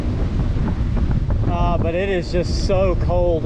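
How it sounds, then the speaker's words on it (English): A strong wind gust buffets the microphone of a touring bicycle on a road between Tupelo and Tishomingo, a loud steady roar throughout while someone speaks over it. "this little wind gust that I'm going through, it's been going on about 2 minutes"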